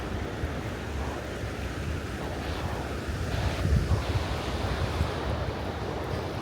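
Ocean surf rolls steadily onto a beach at low tide in December while wind buffets the microphone, making a continuous loud roar with a slight swell midway and no voices.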